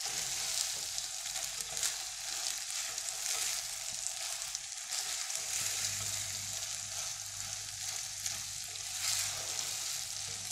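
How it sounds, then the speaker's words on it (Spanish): Rice sizzles steadily in hot chicken-flavoured oil for arroz con pollo, a dense continuous frying hiss with a few soft stirring scrapes, close and alone. "lo que vamos a hacer es sellar un poco el arroz con el aceite que tiene también el sabor del pollo"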